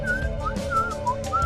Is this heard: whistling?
yes